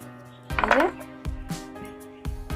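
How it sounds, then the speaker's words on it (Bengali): A knife runs around the sides of a metal bowl to loosen a sponge cake, giving a few close, short scrapes and clinks separated by brief pauses. "এরকম একটা চাকু নিয়েছি, চাকুর সাহায্যে সাইডগুলো একটু ছাড়িয়ে নেব"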